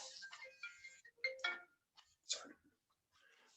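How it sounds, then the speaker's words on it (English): A mobile phone ringtone plays outdoors in a series of short, bright, chirping electronic bursts separated by brief gaps, fairly quiet and heard alone without talk. "Sorry, my phone went off."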